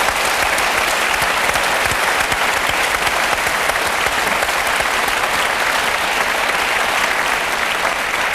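A studio audience at a Paris music television show applauds steadily and loudly, a dense even roar of clapping that holds without a break and with no voices rising above it.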